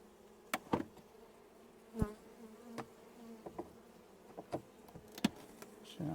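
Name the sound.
honeybees buzzing in a nucleus hive split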